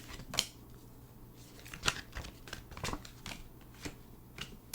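Tarot cards are shuffled for a psychic reading: soft, irregular riffling and snapping clicks, several sharper flicks standing out from a quiet background, with no talking.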